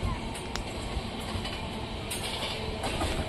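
Passenger train running near Doddaballapura, heard from inside as a loud, continuous rumble with faint clicks of the wheels over the rails.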